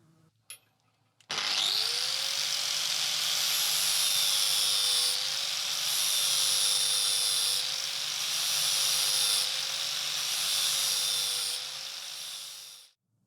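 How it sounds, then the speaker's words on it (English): An angle grinder disc scores the shoulder of a wooden tenon for a Viking longship mast, a loud, sustained high whine that holds steady for about eleven seconds with slight dips in pitch as the disc bites, then cuts off. "I'll score that with the grinder and then come back with the file."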